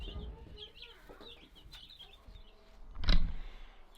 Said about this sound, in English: we're back at the chickens that we bred from